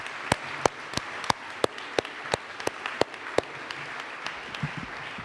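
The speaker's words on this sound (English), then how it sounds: "Can we get another round of applause for all of the business finalists?" Audience at an awards ceremony applauding business finalists, a sparse scattering of sharp individual claps spaced apart over steady room murmur, gradually thinning out.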